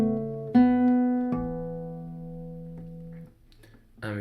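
Guitar plays a short second-time bar ending on a ringing harmonic, a few plucked notes sustaining and fading, close and alone, from a tune.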